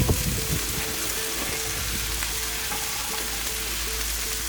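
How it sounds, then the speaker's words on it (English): A steak searing in a skillet inside a wood-fired oven gives a constant, even sizzle like light rain, with a low hum beneath and no talking. "The flat surface of the pan means the entire surface of the steak gets this wonderful caramelized sear"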